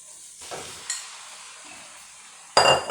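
Ground beef frying in a pan and being stirred, a close sizzle with scraping stir strokes, quieter in the middle and loudest at the end as the meat is turned, with no speech.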